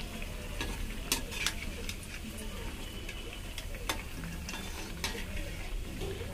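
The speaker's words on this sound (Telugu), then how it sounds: "చూడండి ఫ్రై అవుతున్నాయి కదా, ఇంకో సైడ్ తిప్పుకొని ఫ్రై చేసుకోండి." Bread pieces deep frying in hot oil for a spicy, slightly sweet snack, giving a steady close crackling sizzle with occasional sharper pops and spatters throughout.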